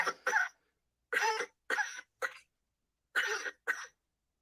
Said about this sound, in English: Yeah, you're coughing.